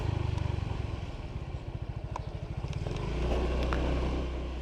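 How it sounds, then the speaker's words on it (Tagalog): Motorcycle engines putter and rev close by on a street, with a rapid throbbing idle rising into a louder passing drone. "Daming motor dito, di ba?"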